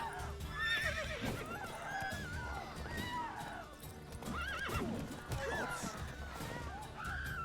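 Horse in The Witcher 3 neighing and whinnying repeatedly over clip-clopping hooves, with game sounds mixed in at a moderate level throughout.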